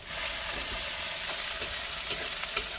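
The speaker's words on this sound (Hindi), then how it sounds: "अब इसमें लहसुन और मिर्चा का कूटा हुआ वो डाल देते हैं, इसको भी थोड़ा भून लेंगे।" Crushed garlic and chili fry with onions for a spicy chicken curry being cooked inside a truck in Nepal. A bright steady sizzle runs throughout, and three sharp stirring clicks come near the end, without speech.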